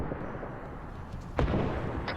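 Tank cannon fire in a World War II–era video game set in the 1948 Arab–Israeli war, with a low background rumble and a sharp, booming shot near the end.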